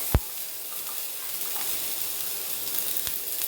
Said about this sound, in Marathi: आता ह्यावर थोडासा कांदा घालून घ्यायचे कांदा असा पसरवायचा आहे